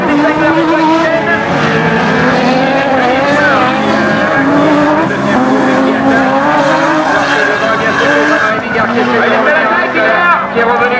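Rallycross race cars, an Opel Tigra and a Renault Mégane, battle at Badefols-d'Ans during a 2001 Coupe de France round, engines roaring loud and continuous with revving pitch changes throughout, a commentator talking over them.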